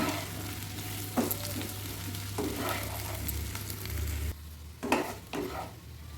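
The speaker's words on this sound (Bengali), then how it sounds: "এদিকে আমার আলুটা ভাজা হচ্ছে হোক" Potatoes sizzling in a pan over a medium flame for a cauliflower curry, a steady loud frying hiss with occasional stirring scrapes, no voices.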